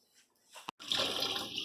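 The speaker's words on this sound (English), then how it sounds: "We rinse it out with water." Shrimp being rinsed under running water, a steady tap stream pouring close by after a brief pause, continuous and fairly loud.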